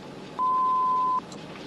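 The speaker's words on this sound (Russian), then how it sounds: "Говорите после звукового сигнала." A single steady electronic tone from a telephone answering machine, clear and sustained for just under a second over a faint hiss, with no voice.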